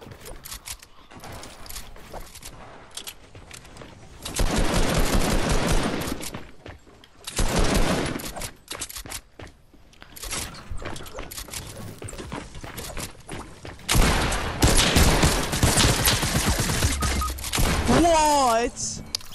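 Gunfire in the video game Fortnite, with bursts of rapid shots in several loud stretches mixed with game sounds, while a player talks over the action.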